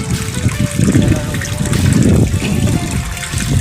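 Steady splashing and trickling water at a fishpond fills the clip, with faint voices underneath.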